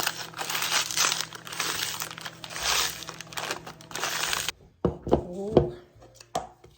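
A few fresh strawberries mashed by hand with a spoon, wet squishing and crushing strokes in an uneven rhythm, close up, ending in short clicks and squelches with no talk.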